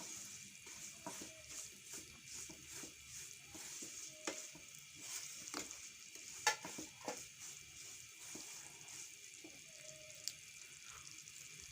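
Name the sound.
semolina roasting in ghee in a pan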